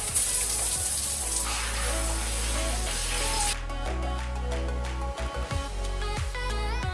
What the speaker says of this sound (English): So I'm gonna go take a shower.